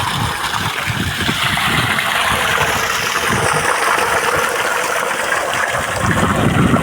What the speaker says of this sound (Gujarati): આપણી વાડીએ મોટરમાં કેટલું પાણી આવે જુઓ તમે.